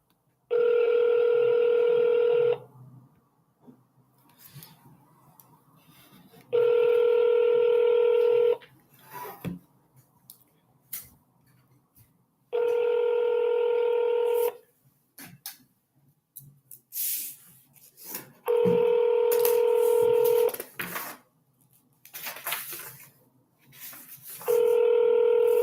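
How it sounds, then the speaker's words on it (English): Telephone dialing tones from an automated real estate cold-call dial session come in several steady, loud bursts a few seconds long, separated by quieter gaps with faint clicks and noises. "Once you click the start button on your screen, your dial session will begin."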